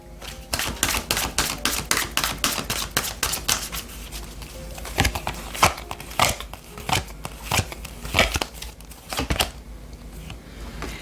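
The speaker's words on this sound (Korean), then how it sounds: "오라클 카드도 한 장 보도록 하겠습니다." A deck of oracle cards handled and drawn from: rapid, rhythmic papery flicks and riffles, close and crisp, in bursts with short pauses, no talking.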